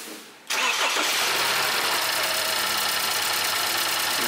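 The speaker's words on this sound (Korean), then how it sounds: "시동 한번 걸어서 볼까?" A BMW F30 320i with the N20 engine cranks and fires after a brief quiet moment, then settles into a loud, steady, close-up idle carrying a cylinder misfire, with no voices over it.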